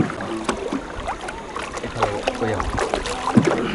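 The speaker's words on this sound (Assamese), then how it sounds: "ধান খেতৰ ওপৰেদি নাও বাইচ খেলা চলি আছে" A rowboat is paddled through floodwater over submerged paddy fields during the 2004 Assam floods, with soft water movement and splashes close by under intermittent voices.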